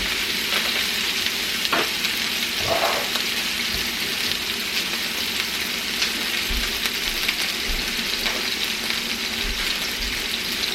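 Steaks sear in a hot pan with a steady, dense sizzle and crackle that runs throughout, with a few soft knocks underneath and no talking.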